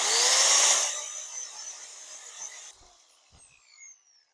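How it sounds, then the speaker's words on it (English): An angle grinder touches up a metal part on a Vermeer 604M hay baler, a loud high whine that fades within about a second, followed by a faint spin-down and a couple of soft clunks. "we just keep touching it up with the grinder and hopefully we'll get it"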